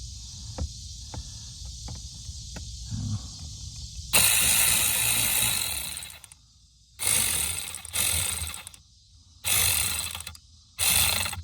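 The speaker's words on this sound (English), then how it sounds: "then have your little ratchet ready and put it on there" A small hand ratchet tightens the screws on a 2015 Hyundai Sonata blower motor: soft early clicks, then several loud, close bursts of rapid ratcheting separated by short pauses.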